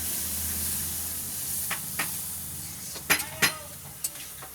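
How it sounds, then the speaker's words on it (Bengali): Cumin, pepper and onion masala fries in a pan after a splash of water is added, giving a steady hiss broken by a few sharp utensil clicks, with no talking. "দেখুন একটু জল দিলাম, পেঁয়াজটাও গলে যাবে।"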